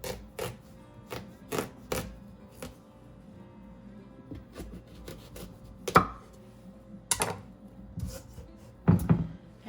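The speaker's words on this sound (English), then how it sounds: "We're going to set it on its side and cut it in half." A giant knife cuts a whole pumpkin in half, heard as scattered sharp knocks and scraping thuds of the blade meeting the tough rind and board, close and irregular with quiet gaps between strokes.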